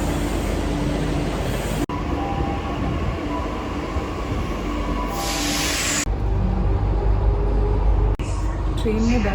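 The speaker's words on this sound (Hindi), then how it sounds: "सो आई एम होपफुल कि हमारी ट्रेन आ रही है" A passenger train pulls into a station platform on the Delhi to Chandigarh route, its low rumble and rail noise steady and loud throughout, with distant station sounds and chatter mixed in.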